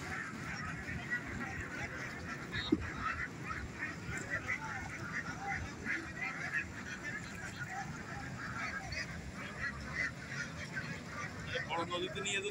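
Belgian ducks raised together with fish on a farm pond quack and honk repeatedly at moderate distance, a steady chorus of calls over outdoor background noise.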